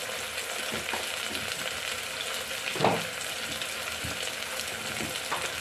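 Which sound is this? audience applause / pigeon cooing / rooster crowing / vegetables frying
vegetables frying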